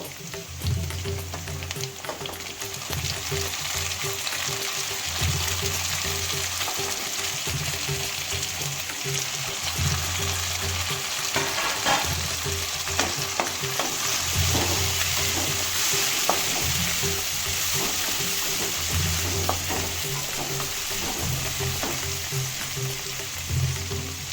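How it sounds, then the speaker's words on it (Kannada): Dal khichdi with tomato frying in a pan while being stirred, a continuous close sizzle broken by repeated rhythmic scraping strokes of a spoon, steady and moderately loud with no talk. "ಚೆನ್ನಾಗಿ ಹುರ್ಕೋಬೇಕು ಫ್ರೆಂಡ್ಸ್"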